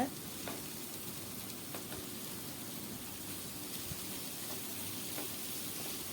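Radish and onion sizzle quietly in a pan, a steady soft frying hiss with occasional clicks of stirring.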